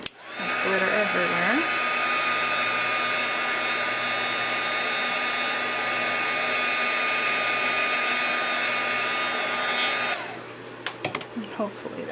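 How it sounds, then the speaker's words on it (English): A heat tool blasts continuously and loudly for about ten seconds while heat-setting a Christmas card, then switches off, leaving quieter handling noises; a voice is briefly heard at the start. "so now we want to heat set it"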